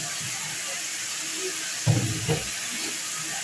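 Mixed summer vegetables for a curry fry in a pan with a soft, steady hiss throughout, broken by a couple of brief low clatters midway.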